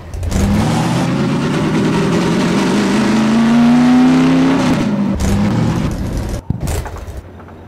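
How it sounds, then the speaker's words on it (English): A jalopy drives in Garry's Mod, its engine loud and close, droning and revving up in pitch over several seconds before cutting out abruptly. A short clunk follows, then a quieter idle. "if you want vehicles, like the jalopy, you go in vehicles and you can drive them."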